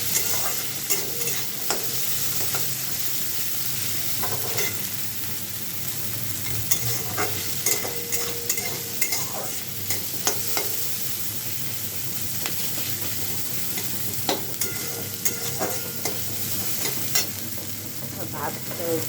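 Chow mein stir-fried with boiled soybean chunks in a home pan: a steady sizzle and hiss with frequent scraping, clattering strokes of the spatula, close and fairly loud, with no talking.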